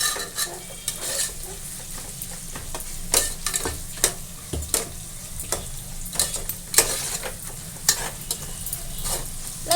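Chicken pieces frying in a tomato-onion masala as a spoon stirs them, with steady sizzling broken by frequent sharp scrapes and clinks against the pan, close and fairly loud throughout.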